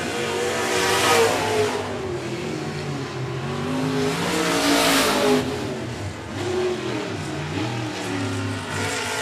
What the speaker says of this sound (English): You can hear the engine there on that race machine when it breaks loose.